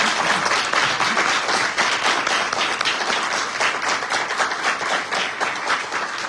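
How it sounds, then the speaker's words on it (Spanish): Audience applause after a talk for accounting students, thanking the guest speakers; dense, steady clapping from a crowd, fairly loud and sustained throughout. "vamos a agradecer con un fuerte aplauso a nuestros invitados del día de hoy"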